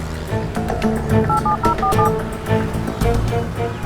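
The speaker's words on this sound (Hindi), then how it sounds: "तुम एक काम करो, एसपी मदन को फोन" A run of electronic keypad tones beeps in quick succession as a number is dialed, over a loud rumbling background.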